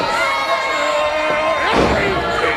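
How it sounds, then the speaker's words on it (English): Wrestling crowd at a DWA event cheering and shouting as Gator comes out, a dense sustained roar of voices with a surge of louder yelling near the end, commentary voices underneath. "This crowd just lights up every time Gator comes out."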